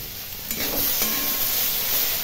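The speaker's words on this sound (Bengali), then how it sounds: "সমস্ত সবজি খুব ভালো করে নেড়ে ভেজে নিলাম।" Chopped mustard stalks with salt and turmeric are stir-fried in a hot pan, giving a steady close sizzle with soft scraping stirs and no talking.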